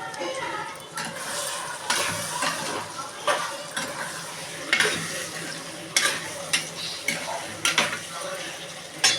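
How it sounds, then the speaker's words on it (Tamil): Dried fish (karuvadu) frying in a pan with oil, a steady sizzle broken by repeated scraping stirs and clinks of a utensil against the metal, close and fairly loud, with no talking. "இப்போ நம்ம கருவாடு போடுறோம்."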